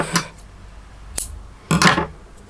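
Scissors snip through crochet yarn: a few crisp, close metallic clicks and cuts, a sharp snip near the middle and a fuller, longer cutting sound toward the end, with no talking.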